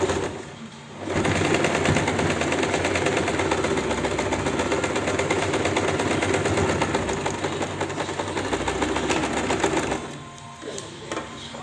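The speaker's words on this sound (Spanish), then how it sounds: "voy a pasar solamente una costura recta todo lo que es alrededor por lo que es la fondo de bolsa" A sewing machine runs a straight seam around the bottom of a pocket bag, a steady close mechanical whir for about nine seconds before it stops, with quiet handling noise after.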